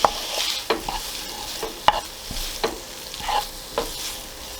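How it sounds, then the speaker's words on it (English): A spoon scrapes and clacks through tomato, mince and carrots in a hot pan, several distinct stirring knocks over a light, steady sizzle. "And then we'll stir all that together and just cook for another minute or so"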